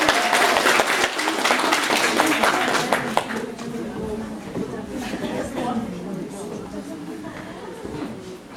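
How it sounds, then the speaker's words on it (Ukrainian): Theatre audience applauding the performers at a Ukrainian folk matchmaking show, dense clapping for the first few seconds, then thinning into scattered claps and murmuring crowd chatter. "за оплесками попросимо артистів"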